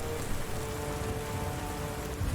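Icy rain pours down in a continuous, even hiss of drops striking surfaces, soft and steady with no breaks and no voices.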